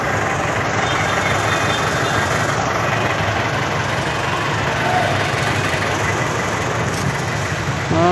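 A tired motorcycle idling at night in Marikina City, its engine giving a steady, unbroken low rumble close by for the whole stretch.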